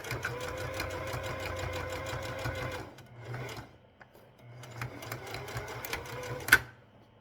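Sewing machine running a straight stitch along a hem of a baby changing pad, a fast rapid rattling hum for a few seconds, a short pause, then another steady run that ends with a sharp click.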